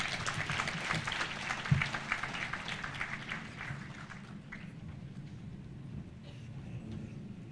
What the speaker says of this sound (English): And please give a big round of applause to Dr. Raza Ali Khan.